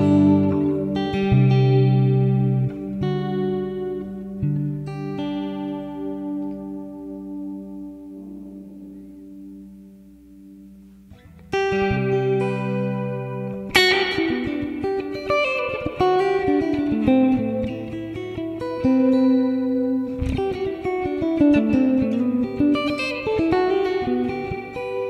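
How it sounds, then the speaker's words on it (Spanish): An electric guitar plays through a Strymon Blue Sky reverb pedal set to a modulated mode, with sustained chords fading into a long shimmering tail before a brighter, busier passage of notes and chords returns. "tocar con reverb es un placer diferente"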